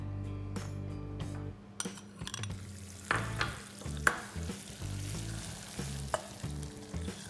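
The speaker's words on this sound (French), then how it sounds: "On mélange notre caramel jusqu'à qu'il commence à épaissir." A spoon stirs caramel in a pan after butter and crème fraîche have been added off the heat, with soft scraping, a faint sizzle and a few light clinks against the pan, close and quiet, with no talking.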